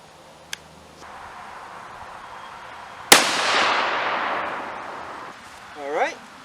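A single sharp 6.5 Creedmoor rifle shot firing a 142 grain SMK bullet cracks loudly at close range, then a long decaying boom rolls out across open ground.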